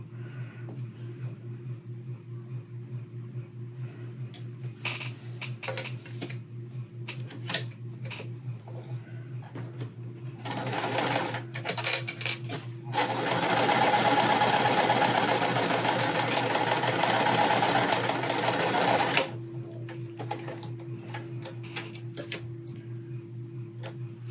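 A home sewing machine stitches cotton quilt pieces, running in a steady loud whir for several seconds, with shorter stop-start bursts before it and light ticking handling noises around it.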